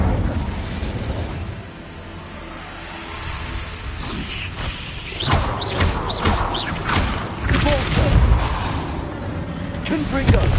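A fire spell cast in Hogwarts Legacy roars as a broad, rushing burst that swells and crackles for several seconds, loud and close, amid game sound effects.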